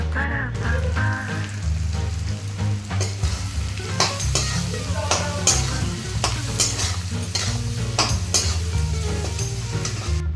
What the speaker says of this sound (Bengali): সিদ্ধ আলুগুলো দিয়ে দিলাম দিয়ে এই যে নুন হলুদ এসব দিয়ে সুন্দর করে ভাজা ভাজা করে নিলাম